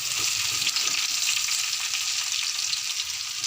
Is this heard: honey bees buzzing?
no